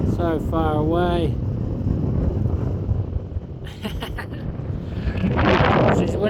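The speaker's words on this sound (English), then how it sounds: "This is windy." Strong wind in the Australian outback buffets the microphone with a heavy rumbling roar, while a voice speaks briefly at the start and again near the end.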